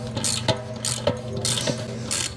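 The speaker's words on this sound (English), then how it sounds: "And then I just start ratcheting." A ratchet clicks steadily while tightening a cassette lock ring onto the freehub of a Ribble Gravel SL bike with SRAM Rival eTap AXS, with repeated strokes of fast pawl clicking and brief pauses between them, close up and with no talk.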